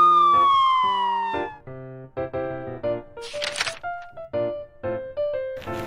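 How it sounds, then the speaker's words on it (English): A fire truck siren sound effect opens with a descending wail, followed by short choppy electronic siren tones and a burst of noisy clatter, loud and close without speech. "Then Pete turns on the sirens and lights. The sirens blare."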